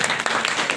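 An audience honouring a guru at a community gathering claps in a short, dense burst of applause heard close by.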